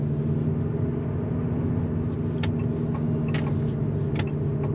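A 2024 Abarth 500e electric hatchback driving along with its synthesized petrol-engine sound, a steady low droning hum with road noise, continuous and fairly loud inside the cabin.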